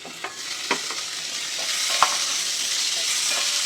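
Tomatoes sizzle steadily in a hot pan, with a few sharp clicks and scrapes of a utensil stirring through them.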